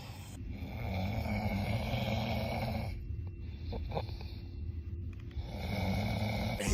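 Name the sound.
person snoring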